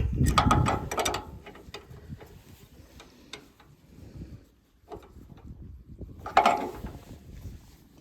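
Bursts of metallic ratcheting and clanking from a monkey wrench during maintenance on a Wood-Mizer LX25 sawmill, loudest at the start and again near the end, with quieter mechanical rattling in between.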